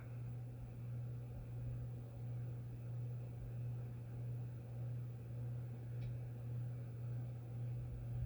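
A Quoizel Fandelier ceiling fan with a GE-style motor runs at a wobbly speed, making a quiet, steady low motor hum that swells and fades in a slow, regular pulse.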